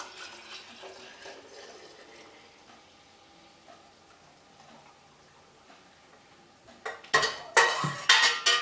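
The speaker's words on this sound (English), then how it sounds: "So I'm just going to pour this right into the same jar." Yogurt pours into a jar in a faint, soft trickle, followed by louder clinks and knocks of glass and utensils toward the end, with no talk.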